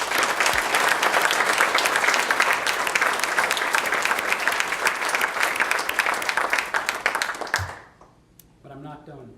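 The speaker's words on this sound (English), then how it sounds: "certainly also deserve a round of applause" A large audience at the 2014 National Brain Tumor Society Summit applauds loudly and steadily for several seconds, then the clapping fades out and a voice begins speaking.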